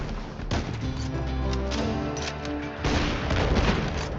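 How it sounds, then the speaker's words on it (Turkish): Heavy booming artillery blasts and rapid gunfire from the video game RimWorld, dense and loud, with crashing impacts overlapping throughout. "adamlar bak top atışına başlayacak"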